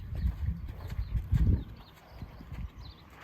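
A horse's hooves clip-clop in an irregular walking rhythm during a horse presentation, close and fairly clear, with a few heavier steps and faint background noise but no talking.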